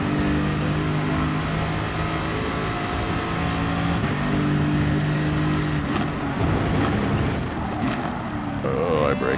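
A NASCAR race car accelerating in a racing video game, a steady loud engine drone with shifting harmonics that holds throughout with no gaps or pauses.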